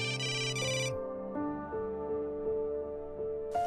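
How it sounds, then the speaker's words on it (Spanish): A telephone rings in short electronic ringtone bursts, a tonal melodic pattern repeating over a few seconds, fairly close and alone without any voices. "Cuando suena el teléfono"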